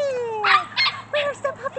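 A 53-day-old puppy gives several short, high yips and whimpers in quick bursts, close by, with a person talking between them.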